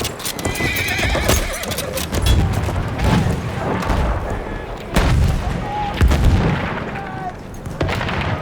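Horse in the Battlefield 1 video game, with clip-clop hooves and a whinny amid loud artillery and gunfire in a chaotic battle mix, with faint voices.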